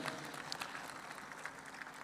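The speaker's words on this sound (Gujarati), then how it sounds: "એકવાર આપણા નવા વિદ્યાર્થીઓને પણ બધાને તાળીઓથી વધાવી લઈએ" Audience applauding to welcome new students at a religious education centre opening in Ahmedabad, a faint, distant patter of many hands clapping, steady throughout with occasional sharper claps standing out.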